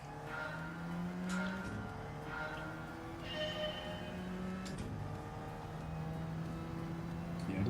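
Alfa Romeo 4C race car in Gran Turismo 7, its engine droning steadily with rising and falling pitch sweeps as it laps, joined by other cars and faint tire noise, with no voices over it.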